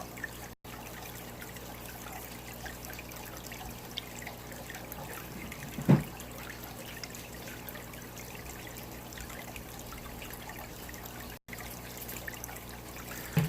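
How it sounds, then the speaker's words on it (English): Steady hissing and trickling water close by, a continuous wash of spray onto aquarium plants in a nano aquascape, with one brief louder clunk partway through. "Let me just spray it really quick with some water."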